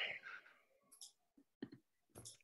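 Faint mouse clicks while someone starts sharing a computer screen, a few short, sparse clicks spaced apart over a quiet background.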